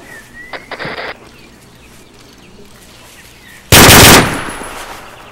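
Machine gun fire in the video game Arma 3: a few light pops early on, then one loud, dense burst near the end that dies away quickly.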